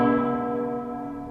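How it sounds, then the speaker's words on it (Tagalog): A single deep bell stroke rings out with a rich, humming resonance that slowly decays. "Bakit ganyan ang tunog ng kampana?"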